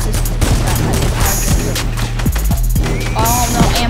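Rapid gunfire bursts and thuds in the Fortnite Mecha vs Monster event, loud and close with sharp repeated shots and mechanical clanks under faint talk.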